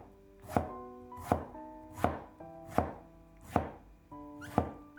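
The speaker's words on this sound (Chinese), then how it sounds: "再将西红柿切成薄片" Knife chopping through tomato slices on a cutting board, seven sharp, evenly spaced strokes about a second apart, close and clear with no talking.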